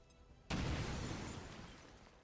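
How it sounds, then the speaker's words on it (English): A grenade goes off in XCOM 2, one sudden loud blast after near silence that rumbles and slowly fades, with no voices. "Spider-Man throws grenade."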